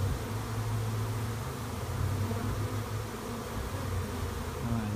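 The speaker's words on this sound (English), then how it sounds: "Look at the bees everywhere. Bees. It's a nice, healthy, big swarm." A dense, steady buzzing of a large honeybee swarm close by, continuous and droning for the whole stretch with no voices.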